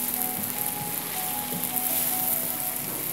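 Chopped tomato and capsicum fry in a pan, a continuous soft sizzle and crackle with a faint steady hum beneath, no voices.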